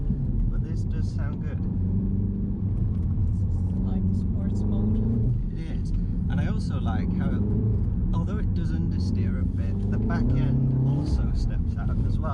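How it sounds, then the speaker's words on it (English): Modern sports car engine in sports mode at a classic car show near Berlin, a loud steady rumble rising and falling with acceleration, heard under a person talking. "Not many modern cars sound good anymore, but this does sound good. This is like the sports mode."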